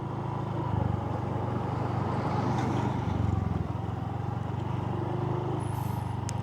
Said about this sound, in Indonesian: Ini ada mobil jeep, kita minggir dulu.